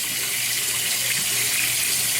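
Water runs steadily from a tap into a sink, a constant close hiss and splash with a low hum underneath, and no one talks.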